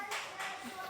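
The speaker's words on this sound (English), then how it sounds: "Keep clapping." A few hands clap on a cruise pier while people count along, three quick, faint claps at a steady beat with light voice sounds in the background.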